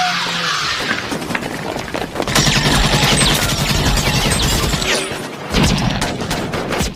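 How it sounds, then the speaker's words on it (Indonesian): Rapid gunfire in a film shootout between police and gangsters, with dense bursts of shots and squealing tyres from a car, loud and continuous throughout. "dari tadi baku tembak itu terjadi antara polisi dan menteri yang tadi menelponnya serta para pasukan pengamannya"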